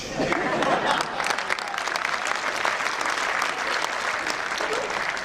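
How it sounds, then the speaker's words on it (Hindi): An audience at a motivational talk breaks into dense, continuous applause, with many hands clapping at once in a steady wash of sound. "और ये ताली बजा रहे हैं"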